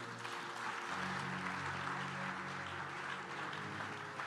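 A French-speaking church congregation applauds and cheers loudly and steadily throughout, a dense wash of clapping with sustained music tones running underneath.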